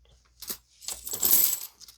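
A Korean 10-won coin from a bank roll is flipped and dropped onto a hard surface: a brief metallic tick, then a longer bright ringing clatter as it settles, heard close with no talking.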